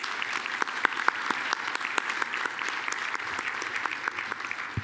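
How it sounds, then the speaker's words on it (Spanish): An audience at the closing session of a LACNOG conference gives sustained applause, many hands clapping in a dense, even patter with sharper individual claps standing out. "quiero un fuerte aplauso para ellas y para la gente láctea"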